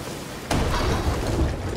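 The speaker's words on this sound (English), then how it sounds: "Our ship just got struck by lightning!" Lightning strikes a ship in the pirate game Sea of Thieves, starting as a sudden loud crack that breaks into a sustained roaring boom amid stormy sea noise.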